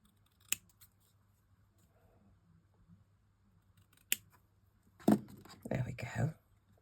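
Scissors trim a paper card in a few sharp, separate snips at close range over a quiet room, followed by soft whispered talk at the end.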